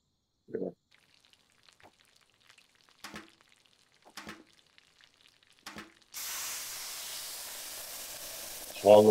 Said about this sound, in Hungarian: Itt nem is fog sülni, hanem az olajsütőben fog.